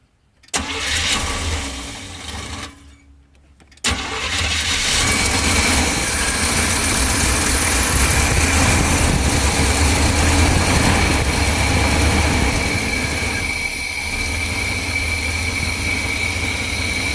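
A car engine cranks and briefly catches, stalls, then fires up and settles into a loud, steady idle close by.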